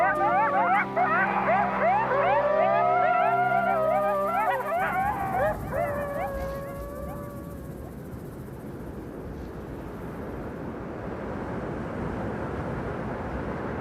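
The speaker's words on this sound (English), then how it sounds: "Coyotes have more calls than any other wild mammal of North America. This group howl means they're all still buddies." A pack of wild coyotes in Yellowstone howling together, overlapping wavering yips and rising howls for several seconds before fading into a steady outdoor rush of wind or water.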